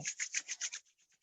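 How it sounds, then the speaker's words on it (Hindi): Palms rubbed briskly together to build heat in a yoga practice, six quick rhythmic swishing strokes that fade into softer, fainter rubs, close and alone without talk. "Rub your palms."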